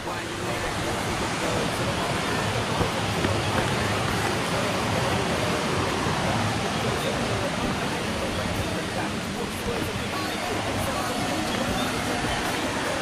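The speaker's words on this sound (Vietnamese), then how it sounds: "bên cạnh dòng suối" Steady rush of a flowing stream at a tourist site in Nha Trang, broad continuous water noise, loud and close throughout with no breaks.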